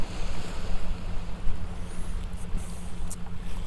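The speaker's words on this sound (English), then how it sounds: "Sitting here at the ocean" Ocean waves wash against the shore at the beach, a steady rumbling surf with gusty wind buffeting the microphone throughout, no voices.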